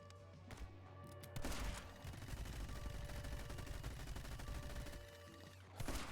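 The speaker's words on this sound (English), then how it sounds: "that's that cannon over there" Cannon fire in the video game My Friend Pedro comes as a loud, continuous barrage of booming shots and gunfire layered over steady game sound, with a few sharp blasts near the start and end.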